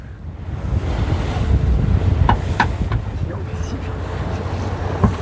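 Sea waves and wind out at sea aboard a boat, a steady loud rush of wind buffeting the microphone over washing surf, with a few brief knocks and faint voices in the background.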